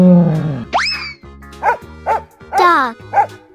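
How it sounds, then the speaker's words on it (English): A cartoon-style dog sound, a series of short bright barks and yips with springy, boinging pitch bends, loud and close, following a brief low voiced tone at the start. "Dog."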